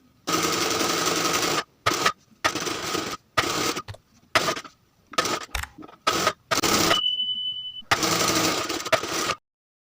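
Sewing machine stitching piping onto a dress body, loud close motor runs in repeated bursts of varying length separated by short pauses, no talking.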